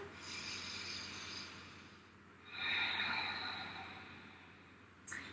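During a yoga pose, slow audible breaths come through the nose, a long hushed exhale followed by a stronger rushing inhale, close and soft with no talk.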